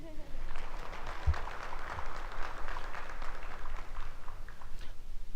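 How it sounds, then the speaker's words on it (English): An audience at the Indonesia Energy Conference 2017 claps in a dense, faint wash of applause that holds steady throughout, heard from a distance. "I think you should give me applause for this."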